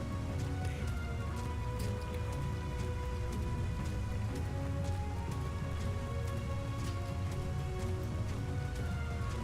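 Rain falling in Final Fantasy XIV, a steady dense patter filling the scene at low volume throughout, alone with no talking.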